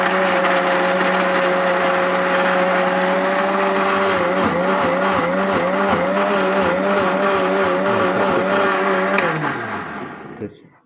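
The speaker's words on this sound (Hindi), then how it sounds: "इसमें ग्राइंडर में मिक्स करेंगे अच्छे तरीके से।" An electric kitchen grinder whirs loudly and steadily while blending tomato green sauce ingredients with a little water, its motor pitch wavering as the load shifts before it winds down and stops.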